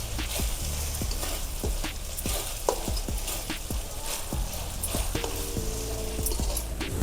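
Ginger garlic paste sautés in a pan for pav bhaji, a steady loud sizzle with repeated scraping and tapping of a spoon stirring against the pan.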